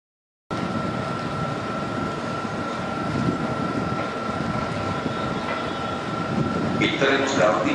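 Intercity train 88407 run by Trenitalia, from Torino Porta Nuova to Lecce, draws in to platform 1 during flood diversions, a sustained low rumble with a steady tone that swells slightly near the end, heard alone.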